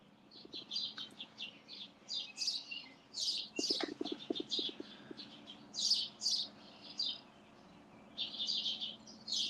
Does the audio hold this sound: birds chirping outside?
yes